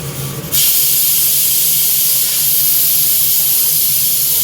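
A pressure cooker steadily venting steam with no whistle: a loud, continuous hiss that starts abruptly after a brief moment and keeps going unbroken at close range.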